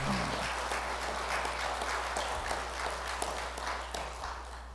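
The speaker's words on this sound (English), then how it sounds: "Can we give him a hand clap of praise?" A church congregation gives a round of applause in praise during a worship service, a steady wash of many hands clapping at a soft, even level for the whole stretch.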